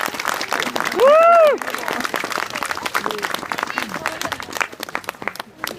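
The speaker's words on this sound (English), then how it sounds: "Please give them a huge round of applause" An outdoor street-show audience claps for the performer's volunteer helpers, sharp scattered handclaps with a loud whoop or cheer early on and background voices mixed in, thinning toward the end.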